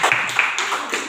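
Classroom applause for a student group, a dense burst of many hands clapping at close range with voices mixed in underneath.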